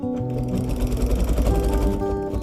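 A sewing machine runs steadily while stitching along the binding edge of a baby quilt, its fast, even mechanical whir and needle clatter loud and close, continuous for the whole stretch.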